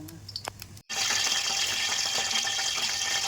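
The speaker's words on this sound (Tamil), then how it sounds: "இப்போ நம்ம இதை பொறிக்கிறதுக்காக ஒரு கடாயில் எண்ணெய் ஊற்றிக்கலாம்" Oil is poured into a kadai to fry finger chips. After a brief silence comes a steady, close, hissing pour lasting a few seconds, with no talking.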